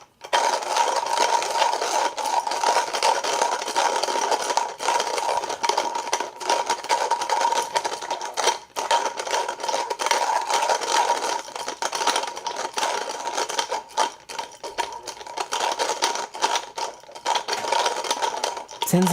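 Coffee beans crunch through a hand grinder in a steady, continuous rasping rattle that runs the whole time, close and fairly loud, with a voice talking over it.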